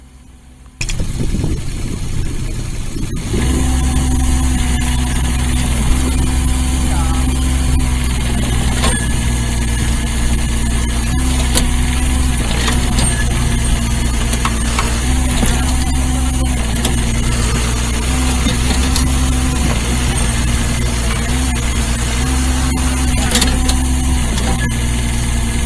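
A dump truck's diesel engine starts and runs loudly while being driven with a heavy clutch, a deep steady rumble close up with small rises and dips in revs throughout.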